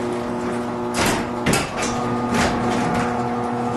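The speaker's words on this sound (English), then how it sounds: "The door actually jams itself into the operator extension bracket." A low overhead garage door on a drawbar opener jams into the opener extension bracket, giving several dull knocks and rattles over a steady mechanical hum.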